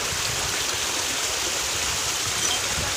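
A monsoon-season waterfall and flowing stream make a dense, steady rushing roar close by, constant for the whole stretch, with no one talking.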